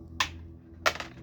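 Two crisp, close snips ring out about half a second apart as wire cutters clip jump rings off a coiled wire, each a sharp click with a short tail in a quiet room.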